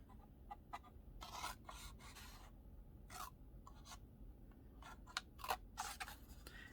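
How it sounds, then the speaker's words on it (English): Scissors cut small notches into the edge of a piece of card used for winding lace, making a series of faint, crisp snips and scrapes over a steady low background hum. "what we're going to do is cut some notches here on the side, not quite to the corner"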